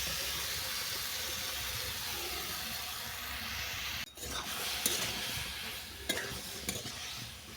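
Mixed vegetables for prawn garden bhapa are stirred in a dry kadai, a low steady sizzle with a couple of brief clanks and scrapes partway through, quiet and close.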